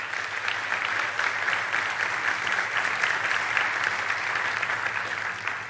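A church congregation applauds during a celebration service, a steady wash of clapping from many hands that holds evenly throughout without pause.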